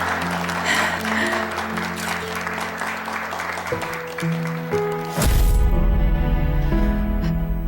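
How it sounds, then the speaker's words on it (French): A crowd at an event gives a warm round of applause that continues steadily, with music playing underneath. "veuillez applaudir chaleureusement ma meilleure amie, Marissa Pineda."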